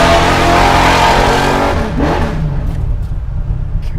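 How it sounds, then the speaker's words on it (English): An 850hp Chevelle launches hard, its engine roaring loud and close at full throttle, then pulling away as the sound gradually thins and fades over a few seconds. "I'm going to launch it right here."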